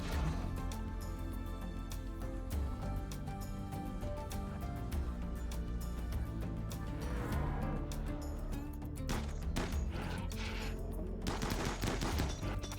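Rapid bursts of assault rifle fire aimed at a centipede in the RimWorld video game, loud, dense gunfire crackling over a continuous game soundtrack, with shots coming in repeated volleys.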